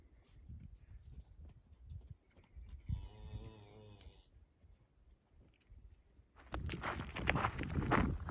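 A herd of cattle out along a desert hiking trail, with a single harmonic moo near the middle, soft footsteps and outdoor rustle around it, and louder broadband crunching or movement toward the end.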